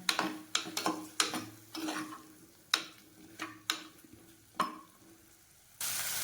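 Mutton fat sizzles and spatters in a hot pan, with sharp crackling pops at irregular intervals and a steady hiss swelling at the end.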